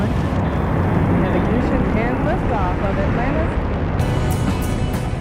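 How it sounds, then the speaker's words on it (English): Space Shuttle Atlantis lifting off, a dense, continuous rocket roar with heavy low rumble and crackle, loud and unbroken, with a voice speaking over it. "Have ignition and liftoff of Atlantis."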